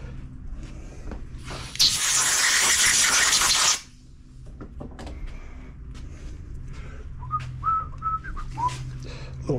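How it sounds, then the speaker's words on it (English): Carb cleaner is sprayed onto a part from a Briggs and Stratton 14.5 hp engine on a Poulan riding mower, a loud aerosol hiss lasting about two seconds, followed by quieter handling clicks. "Little carb cleaner."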